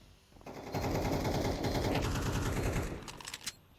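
Rapid MP9 submachine gun fire in Counter-Strike 2 during an esports tournament match, a dense sustained burst of shots lasting a couple of seconds, followed by a few scattered clicks and impacts.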